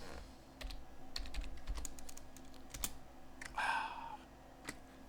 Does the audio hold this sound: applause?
no